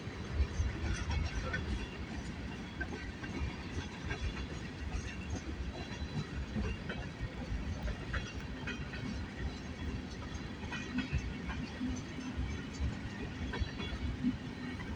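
A freight train rolls past with a brand new Union Pacific boxcar in the consist, a continuous rumbling roar of wheels with faint rhythmic clatter, steady and fairly distant for the whole stretch.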